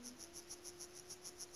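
Crickets chirp in a forest setting in the game Juggernaut, a steady run of evenly spaced pulsing chirps repeating about every fifth of a second, fairly quiet and unaccompanied by voices.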